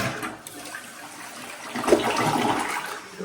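A Kohler toilet flushes close up after a weak-flush repair, a surging rush of water swelling in the middle and continuing as a gurgling drain.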